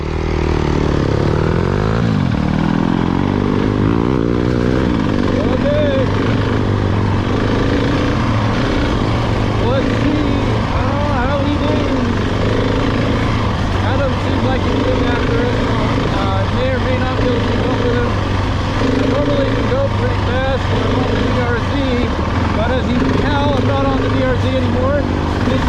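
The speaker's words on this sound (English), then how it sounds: "We're gonna go see how we do on single track with the big thumper and the CRF, the little thumper, exactly." Single-cylinder dirt bikes, a GasGas ES700 and a Honda CRF, ride single track with a constant, loud engine drone and wind rush that never lets up. Speech is heard faintly under the engine noise.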